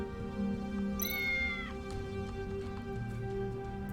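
A cat's meow rises sharply and then trails off over a low electronic ambient hum in the neon-lit street scene of Tales of the Neon Sea. It sounds once, clear and fairly close.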